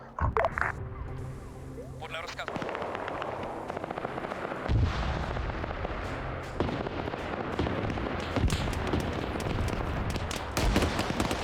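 Mortar high-explosive shells fire and land in a military video game, giving repeated loud booming thumps and blasts over continuous rumble.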